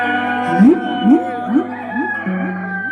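A rooster crows repeatedly against a steady background of sustained melodic song, each crow rising sharply and recurring about every half second.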